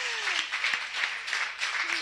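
Audience applause at a women's conference in Veneto, a sustained wash of many hands clapping in a hall with a few sharper claps standing out.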